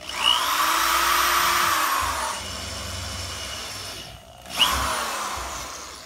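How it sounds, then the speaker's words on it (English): A power drill whirs loudly and steadily as it bores a starting hole into luxury vinyl tile, pauses briefly, then spins up again near the end. "Drill a starting hole."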